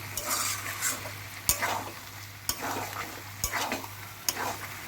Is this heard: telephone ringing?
no